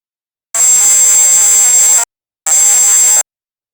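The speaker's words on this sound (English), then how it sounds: "Flood emergency trigger a calamity alarm with rising and falling pitches, increasing in intensity with severity." A flood alarm buzzer from an integrated flood monitoring and security system sounds two loud, harsh, steady-toned blasts, the first about one and a half seconds long and the second shorter, with silence around them.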